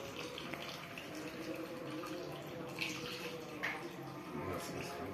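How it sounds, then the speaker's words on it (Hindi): Fresh milk being poured from a container into a bottle at home, a steady liquid splashing and trickling that runs throughout, with faint background voices. "काट कर बॉटल में डाल रहे हैं।"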